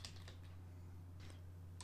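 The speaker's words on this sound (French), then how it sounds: "touche entrée du clavier pour accepter" Keys tapped on a computer keyboard while working in Photoshop, a few faint clicks at close range in a quiet room with a steady low hum underneath.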